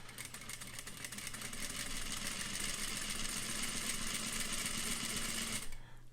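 A sewing machine stitches a rolled hem in one steady, close whirring run for several seconds, then stops abruptly.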